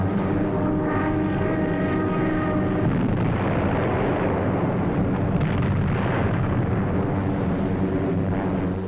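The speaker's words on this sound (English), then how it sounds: "Approaching the French coast, the ack-ack and gunfire seemed harmless and far away." A continuous, dense roar of distant anti-aircraft gunfire and explosions, heard from an aircraft approaching the French coast in 1944, rumbles for the whole stretch, heavy and muffled with no pauses.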